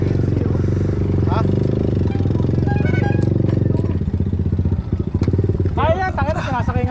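A motorcycle ridden along a road in Binangonan, Rizal, with its engine chugging as a steady, loud, close throb that rattles slightly. A voice talks over it toward the end.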